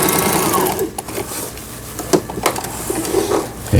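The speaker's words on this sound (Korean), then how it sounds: "옷감의 가장자리가 풀리지 않도록 해주는 오버록 스티치 바느질" A Brother GS2700 sewing machine runs an overlock stitch along a fabric edge, a rapid, steady mechanical whir and patter close by, with small knocks as it slows and restarts.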